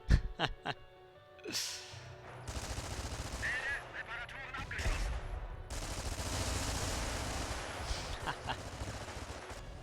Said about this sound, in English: Just listen to these MB-44s firing.